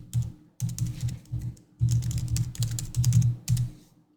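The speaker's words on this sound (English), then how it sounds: "now that I'm typing correctly" Typing on a computer keyboard, rapid clicky keystrokes in uneven bursts with brief pauses, close and clear.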